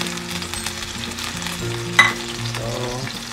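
Marinated beef for a low carb stir-fry sizzles loudly in a hot pan, a continuous close crackle with a sharp clatter of stirring partway through and no voices.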